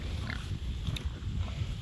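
Pigs and piglets behind an electric fence grunt low and continuously over a dense outdoor rumble, with no talk.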